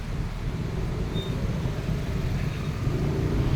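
A diesel tricycle engine passes on a bridge in San Pedro City, Laguna, a steady low rumble with continuous traffic noise and no speech.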